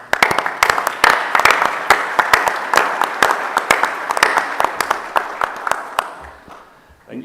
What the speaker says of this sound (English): he deserves a round of applause for this